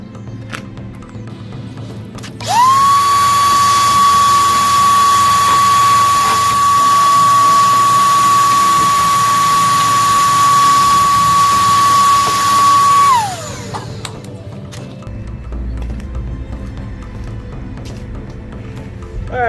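A power drill drives screws into a DJ rack, giving one steady, close, high whine that runs for about ten seconds before winding down, with no talking.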